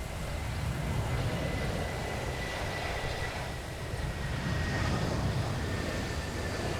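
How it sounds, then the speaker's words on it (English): A JetBlue airliner passes close by beside a runway on the Aruba shoreline, its steady broadband engine roar loud and sustained throughout with no one talking. "Let's wait for the plane to go by first."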